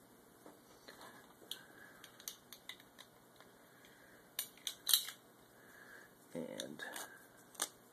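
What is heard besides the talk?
cutting twine with scissors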